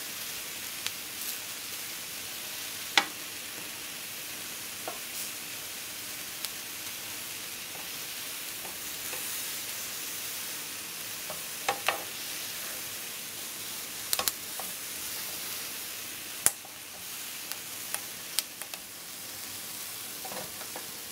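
Garlic, chiles and tomatoes frying in a pan, a steady soft sizzle with faint crackles and a few sharper pops and clicks scattered throughout, no talking.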